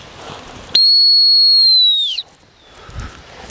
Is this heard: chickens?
no